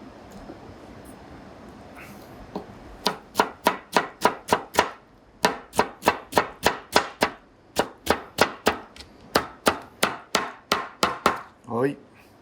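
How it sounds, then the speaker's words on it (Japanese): A knife chops the hard core of a winter cabbage into fine strips on a board: a brisk series of about two dozen crisp, close knocks in quick bursts with short pauses between. "芯ちょっと硬いので、これは結構細切りにします。"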